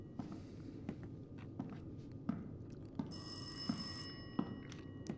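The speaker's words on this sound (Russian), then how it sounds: "Телефон в саду. Оригинально." An old telephone bell rings in a garden in the VR horror game Rise of Insanity, a faint metallic trill heard alongside slow, evenly spaced footsteps thudding close by.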